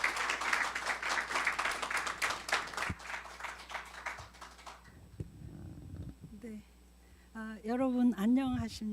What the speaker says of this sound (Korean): 사장님을 큰 박수로 환영해 주시길 바랍니다